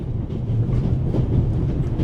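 Steady rumble of a moving train in the video game The Raven, on a trip through the Alps, with continuous close wheel and carriage noise and faint rhythmic clatter, no voices.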